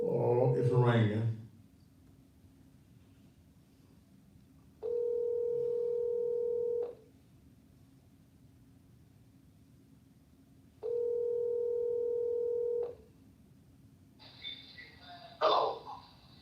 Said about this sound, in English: Oh, it's ringing.